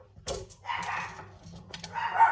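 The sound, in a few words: dogs barking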